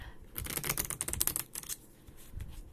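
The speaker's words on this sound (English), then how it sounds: "you need to shuffle your decks a bit" Pokemon TCG cards riffle and slap together in a quick flurry of crisp, papery clicks from a nearby deck being shuffled, easing into softer rustles toward the end.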